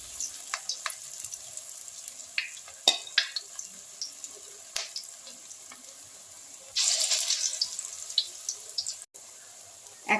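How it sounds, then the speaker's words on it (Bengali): Drumstick-flower fritters, flattened into rounds, fry in a pan over a gas flame, giving a steady close sizzle with scattered crackles and light utensil taps; the hiss swells louder for a few seconds near the end. "আমি ভেজে নিচ্ছি।"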